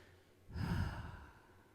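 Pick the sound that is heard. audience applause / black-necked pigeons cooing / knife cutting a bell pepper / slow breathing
slow breathing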